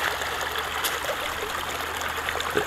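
A small woodland stream runs hard near a lake cottage, a continuous close rushing and trickling wash with steady gurgles and no voices.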